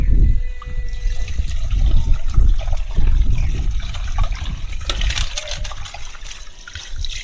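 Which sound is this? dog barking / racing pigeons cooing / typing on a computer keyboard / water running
water running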